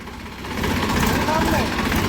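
A farm tractor, a Ford 3600 or Massey 245, runs nearby with a low, rumbling engine drone that swells louder partway through and holds steady, while people talk over it.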